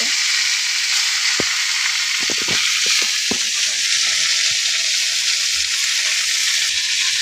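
Leafy greens tossed into a hot pan on a home stove fry with a steady, bright sizzle, broken by a few soft stirring clicks and scrapes, with no one talking.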